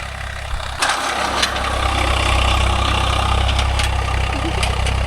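A Swaraj 744 FE tractor engine idles steadily in a dryland field, a continuous low rumble at close range with a brief knock near the start and a few faint clicks over the drone.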